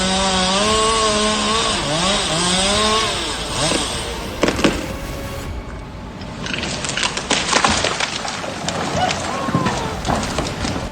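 A chainsaw roars loudly while felling a tree, engine pitch rising and falling, then cracking and splintering wood as the trunk goes down, followed by scattered thuds and rustling.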